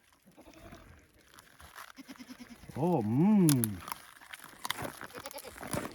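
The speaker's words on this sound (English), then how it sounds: "The goats love it. Let's go give them some." Goats at an Alaskan cabin bleat loudly and nearby for about a second as they are fed dried spruce bark on a frozen winter day, with a brief voice and soft rustling around them.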